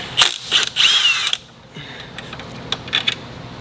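Close, sharp bursts of ratchet and tool clicking as an 8mm socket works the bolts of an engine cover on a fifth-generation Cummins, a few quick runs then fainter scattered clicks.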